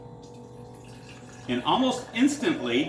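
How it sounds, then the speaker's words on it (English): A Myvision portable electric water pump starts drawing water after a second and a half of near silence, then pours a bubbling, splashing flow up close, with a voice talking over it. "you can see that it starts pumping water as soon as it gets that air out of the line"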